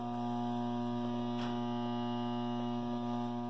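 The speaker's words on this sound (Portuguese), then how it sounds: "É um transformador de alto aqui. Que zune." A high-voltage transformer gives off a steady mains hum with strong harmonics, creating radio interference, continuous and fairly loud throughout with a brief crackle in the middle.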